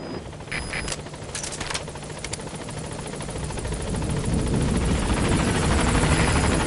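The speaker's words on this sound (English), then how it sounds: "I'll send the extraction chopper." Extraction helicopter in Metal Gear Solid V arriving, a steady rotor roar and whine that builds louder toward the end, with a few sharp bursts like gunfire early on.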